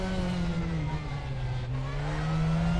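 Race car engine in the GT3 racing game at Spa, accelerating hard with a loud, continuous whining drone that rises slightly in pitch, close and alone without speech.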